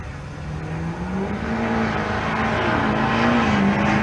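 Duramax diesel-swapped 3/4 ton Suburban drag racing at Pueblo, a deep engine note rising through gears, loud and close, with turbo whine building over four seconds.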